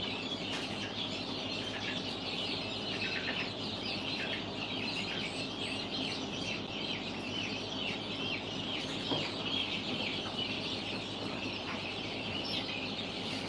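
Chickens clucking around an incubator where chicks are hatching, a steady chorus of clucks and soft peeps with occasional brighter chirps, continuous and moderately close with no talking.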